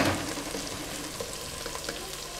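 Chopped garlic and onion sauté in a pan with an even, close crackling sizzle that stays steady throughout the short stretch, with no speech.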